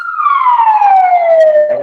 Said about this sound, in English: we'll let the siren pass.